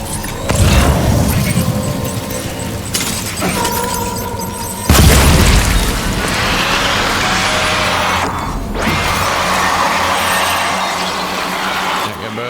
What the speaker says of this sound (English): Let's see if we can actually get a grenade off properly this time.